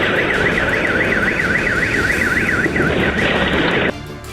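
An air raid siren wails in Kyiv after explosions, rising and falling in a fast, steady warble over loud rumbling noise, then cutting off near the end while the rumble goes on.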